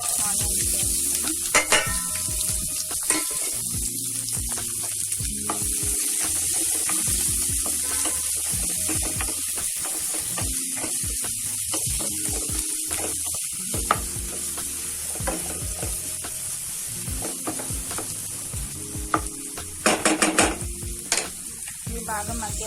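Chopped onions sizzle and fry in a pan for curry with sorakaya, under steady crackling while a utensil scrapes and stirs in repeated strokes, close and with no one talking.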